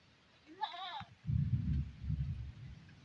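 A goat bleats once, near and clear, a short wavering call over a windy outdoor background during a sudden storm with strong wind, followed by rumbling wind noise.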